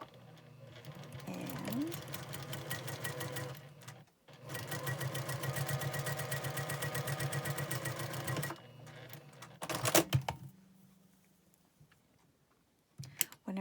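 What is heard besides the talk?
sewing machine stitching quilt block seam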